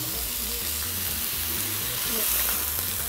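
Horse roast searing in a hot pan with thyme, bay, onion and garlic, a loud steady sizzle and hiss throughout, close up, with a faint voice underneath.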